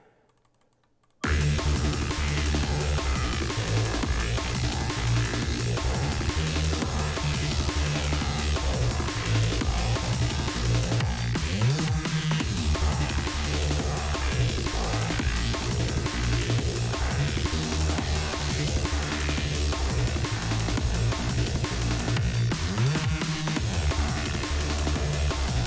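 Reese bass playing together with drums and a simple breakbeat, a loud, continuous electronic mix with a steady drum groove that kicks in after a brief quiet start and runs for the full length.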